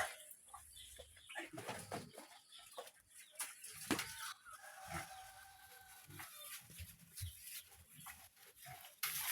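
Hens cluck repeatedly around a small backyard coop on a Philippine mini farm, with dogs and other fowl mixed in, a busy close chorus of clucks and squawks throughout.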